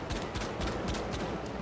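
Rapid weapon fire in the shooter game The Finals, a dense, continuous stream of loud, close shots with recoil rattle and no pauses across the short stretch.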